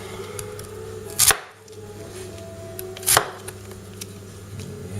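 Two sharp knife chops through celery on a cutting board, made with a Tops Lite Trekker survival knife, spaced about two seconds apart over a quiet background.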